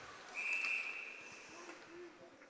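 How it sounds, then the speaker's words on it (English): A referee's whistle at a girls' ice hockey game gives one short, shrill blast, fairly distant in the rink, fading under low arena ambience. "We'll get our first whistle of the game"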